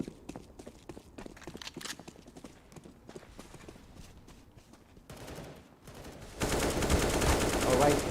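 Gunfire sprays in a competitive video game match: rapid bursts of shots and clicky footsteps build into a dense, loud stretch of automatic fire near the end.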